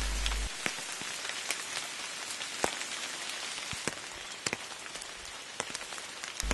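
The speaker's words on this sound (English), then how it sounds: "Whoops, it's raining." Steady rain falls through the Madagascar rainforest, a dense continuous patter of drops on leaves with sharper individual drips cracking out close by, sustained and even throughout.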